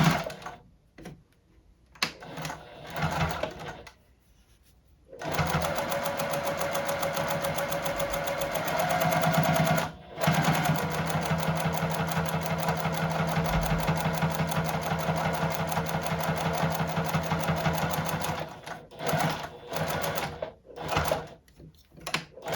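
A JUKI sewing machine topstitches the folded edges of lawn flag fabric, running in long steady bursts of fast rhythmic needle clatter and motor hum, with short pauses and quiet handling noises between runs.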